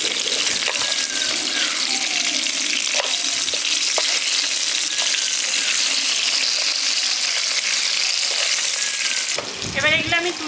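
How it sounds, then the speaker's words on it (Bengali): Fish heads frying in hot oil in a pan as they are broken apart: a steady, close sizzle throughout, with a few utensil scrapes and taps, ending in a brief burst of bubbling. "এবার মাথাগুলো আমি ভেঙে নিচ্ছি যাতে ভালোভাবে ভাজা যায়"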